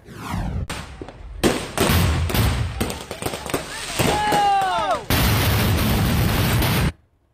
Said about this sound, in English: There were also displays that started off normal before becoming massive explosions like this one.